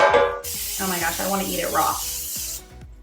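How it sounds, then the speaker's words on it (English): Cooking spray hisses into two baking pans before a smoked pound cake batter goes in, a sustained soft spray lasting about two seconds while a person speaks over it. "Lastly, spray your pans."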